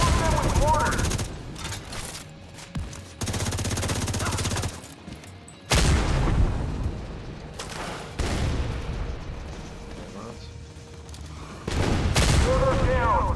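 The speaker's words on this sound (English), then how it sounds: "Support them with mortars!" Mortar and gunfire in The Division 2 video game, with sharp booming blasts and bursts of rapid shots separated by abrupt cuts, loud and close throughout.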